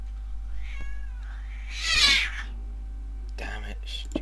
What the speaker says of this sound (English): Damn it, stupid cats.